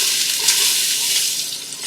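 Onions and garlic sautéing in a pan, a loud, close, continuous hissing sizzle with no talk over it.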